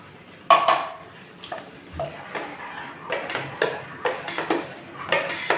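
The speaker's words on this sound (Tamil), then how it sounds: "கொஞ்சம் கொஞ்சமாக இந்த ரவையை கொட்டி கிளறணும்" Irregular scraping and knocking of a spoon stirring semolina in a metal pot, a series of close clinks with quiet gaps between them.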